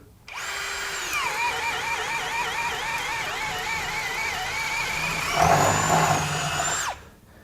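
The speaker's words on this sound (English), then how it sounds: "So again, step down to a 1/2-inch bit, still self-feed, speed 2." A Ryobi 18V One+ drill on speed 2 bores with a 1/2-inch self-feed bit, a loud, steady whine with wavering pitch as the bit bites, roughening near the end before stopping abruptly.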